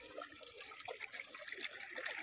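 Irrigation water flowing and trickling into a fenugreek field on a farm in the early morning, a steady low babble of running water with faint splashing throughout.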